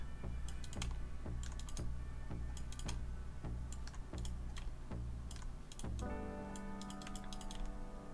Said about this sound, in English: With all this clicking, you can hear why I expend a lot of computer mice playing this game